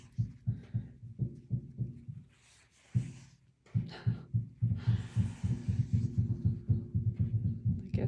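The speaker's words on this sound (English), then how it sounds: "Getting a new roof is loud." Rapid, rhythmic thudding from roofing work on a house, heavy low knocks repeating in quick bursts with a brief pause, steady and fairly close, with no talk.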